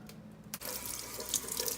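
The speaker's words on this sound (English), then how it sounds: "Now I'm going to fill that water and I'm going to go ahead and rinse this on off." Tap water runs steadily into a sink, filling it to rinse hair extension bundles; a short quieter trickle gives way to a strong, continuous close stream with no talk.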